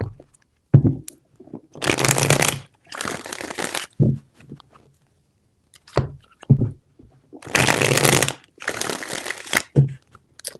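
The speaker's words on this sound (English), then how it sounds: "3 shuffles." Close, bursty riffles of tarot cards being shuffled, several rapid flurries separated by soft taps and pauses.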